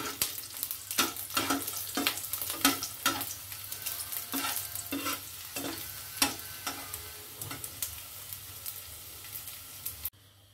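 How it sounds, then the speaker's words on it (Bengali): Garlic and dried red chillies frying in hot oil, a loud steady sizzle with rhythmic spatula strokes scraping the pan about once a second, stopping abruptly at the end. "दिচ্ছি रसुन और शुकनो लंका। शुकनो लंका और रसुनटा एकटु भेजे निये तुले नेब"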